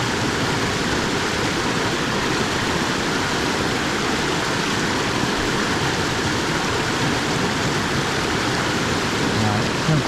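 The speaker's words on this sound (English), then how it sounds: "I think this river might be rising" A loud, constant roar of a river swollen by rain fills the scene evenly from start to finish, broad and unbroken, with no distinct voices standing out.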